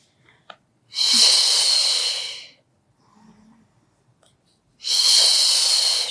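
Two long, forceful exhalations through the mouth during a Pilates back stretch, each about two seconds of loud, close breathy rush, separated by quieter inhaled breaths and faint shuffling.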